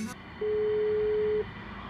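A phone placed on a call through Siri plays one steady ringback tone lasting about a second, close and clear against quiet surroundings.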